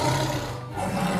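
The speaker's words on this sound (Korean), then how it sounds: "호랑이 소리였어요" A tiger roaring, played as a sound to guess in a preschool lesson. One loud, sustained, growling roar fills the brief stretch with no talk over it.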